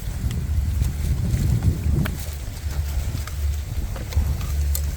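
Wind gusts outdoors on a mountain, a low buffeting rush that swells and eases against the microphone, moderately loud with no voices.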